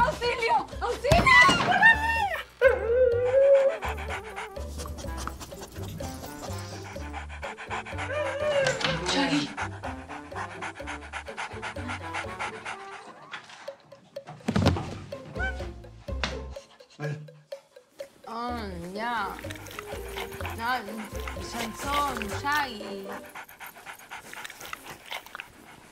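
Dogs pant heavily and bark in a house during a romantic comedy scene, the panting and yelps running close and loud under frantic, panicked talk and cries for help.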